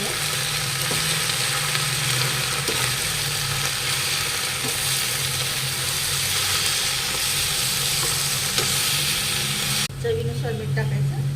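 Methi bhaji with moong dal and milk sizzles and crackles in a pan while being stirred, a steady frying hiss with occasional scraping taps. Near the end the sizzle drops away and a quieter, duller background follows.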